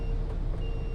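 Truck reversing on a road in Calauag, Quezon Province, its steady reversing beep heard against a loud, constant engine and traffic rumble.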